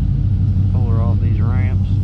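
A 2001 Chevrolet Camaro Z28 engine runs with a loud, deep, steady rumble close by, while someone talks briefly over it.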